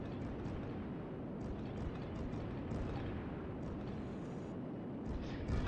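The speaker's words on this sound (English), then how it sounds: "Man, that flak's got range." Flak anti-aircraft fire in the flight game Simpleplanes, a dense continuous rumble of distant bursts blending into a steady low roar without clear individual pops.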